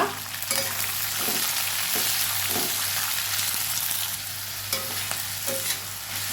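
Sliced onions fry in a hot pan for a quick breakfast dish, giving a steady close sizzle with several soft stirring scrapes and clacks throughout.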